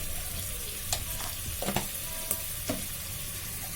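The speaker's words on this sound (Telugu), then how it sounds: "ఈ పచ్చి మసాలా అంతా బాగా వేయించుకున్న తర్వాత దీంట్లోకి సరిపడా అల్లం ఎల్లిగడ్డ పేస్ట్ వేయాలి" Ginger garlic paste frying with masala for mutton curry, a steady close sizzle broken by a few scraping stirs of a spoon in the pan.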